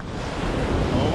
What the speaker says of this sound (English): the swell's beautiful, isn't it?